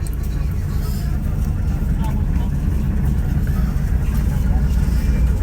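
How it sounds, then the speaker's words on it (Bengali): A river ferry's engine drones as the vessel departs, a steady low rumble with broad wash noise that stays constant and fairly loud throughout. "এই যে ফেরি ছেড়ে দিছে।"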